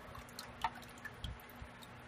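Water sloshes faintly in a gold pan as dirty paydirt is panned, with soft, sparse drips and wet squishes spread across a quiet background.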